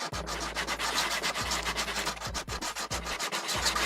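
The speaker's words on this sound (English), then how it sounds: "coming along with the sanding" Rhythmic back-and-forth hand sanding of a 3D-printed RC airplane part, a steady scratchy rubbing in repeated strokes, close and fairly loud.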